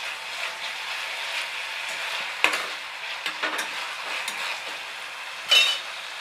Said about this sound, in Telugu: ఇప్పుడు మనం ఇందులో కొత్తిమీర, కరివేపాకు వేసుకుందాం.